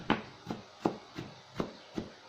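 Food ingredients being chopped for a macaroni dish topping, six evenly spaced knife strikes on a cutting board, crisp and close, with quiet pauses between each chop.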